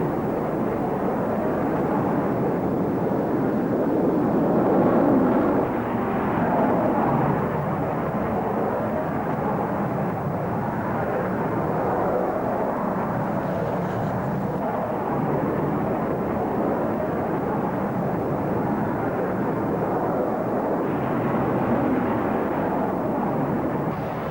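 An F-111 military jet flies past with a heavy, sustained roar that swells and eases slightly, steady and loud for the whole stretch, with no talking over it.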